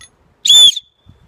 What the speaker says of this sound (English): The whistle works.